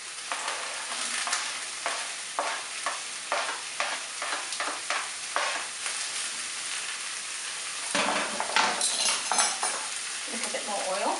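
Onions frying in oil in a pan for a chicken and apricot casserole, a constant close sizzle broken by rhythmic stirring scrapes, with a louder clatter of utensil strokes near the end.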